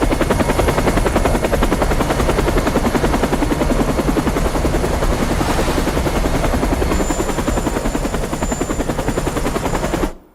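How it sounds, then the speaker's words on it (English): A helicopter's rotor chops in a fast, steady pulse with a loud engine roar, close and constant for about ten seconds before cutting off abruptly, with no talking. "I need a chopper. Now!"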